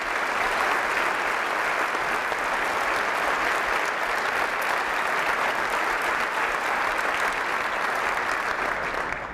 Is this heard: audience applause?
yes